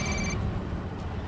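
A telephone rings in a police setting, one short electronic burst that cuts off within a fraction of a second and leaves a dull, noisy room tone.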